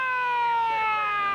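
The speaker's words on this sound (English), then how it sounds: "The referee hasn't heard the siren." A sustained electronic siren sounds at the end of an under-18s rugby league grand final at a country ground, a loud, steady harmonic tone holding throughout without pause.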